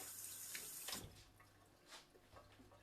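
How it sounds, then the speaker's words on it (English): Tap water runs steadily into a sink while hands are washed, a soft rushing stream for about a second that then drops to faint splashes and drips. "Wash my hands."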